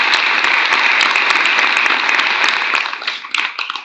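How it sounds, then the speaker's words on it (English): Audience at a city candidate forum breaks into a round of applause, loud continuous clapping that thins out into scattered claps during the last second. "let's show our appreciation with a round of applause."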